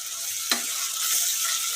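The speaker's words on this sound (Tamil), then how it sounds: "வெங்காயம் நல்லா வதக்கிக்கலாம்" Onions frying in oil for a Bangalore-style mutton kulambu, a steady close hiss of sizzling with one brief clink of a spoon against the pan partway through, no talking.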